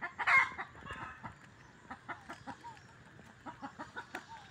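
A hen clucks in a series of short, rhythmic bursts, fairly close, after a louder squawk at the start, with faint farmyard ambience behind.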